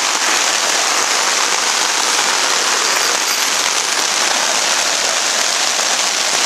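Heavy rain from a storm drums steadily on a taut tarp over a hammock, a dense, even hiss with no letup and no voices.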